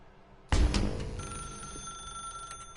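An office telephone in The Stanley Parable: Ultra Deluxe bursts into a loud, sudden bell ring after a quiet start, the metallic jangle ringing on and slowly decaying; no one speaks.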